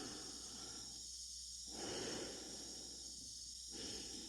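Astronaut Dave breathing inside his space helmet in 2001: A Space Odyssey, slow rhythmic breaths, about two cycles of inhale and exhale, close and muffled over a steady hiss with no talk.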